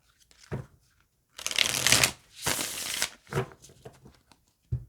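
A small deck of playing cards is shuffled close by, with two long riffling bursts followed by several shorter crisp flicks and snaps between brief silences.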